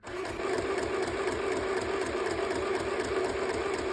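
A budget UFR 505 sewing machine winds a bobbin with a steady, close mechanical whir and a fast rhythmic clatter that hums evenly throughout after a quick start, with no talking.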